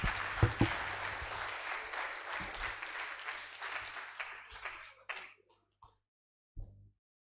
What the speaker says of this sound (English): Please, another round of applause for the presenter of today.